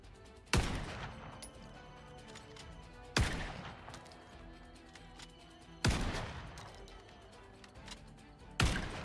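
Shooting-practice gunfire in a video game: four loud, sharp reports spaced about every two to three seconds, each ringing out with a short decaying tail over a steady background din.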